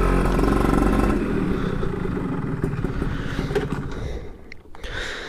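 Yamaha F1ZR two-stroke motorcycle from 2000 fitted with a Chan racing muffler, revving loud and close with a buzzing, rising and falling engine note that tapers off near the end.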